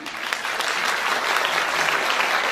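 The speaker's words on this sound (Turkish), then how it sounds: "Büyük alkışlarınızla" Sustained applause from a crowd at a choir concert, dense clapping filling the whole stretch at a steady, loud level.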